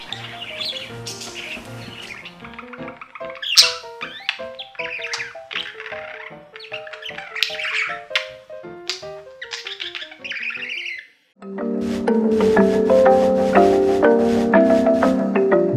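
Pet budgies (parakeets) in a home in the early morning, chirping and squawking in a busy, close chatter of rapid tweets, a brief pause, then a louder, denser burst of calls.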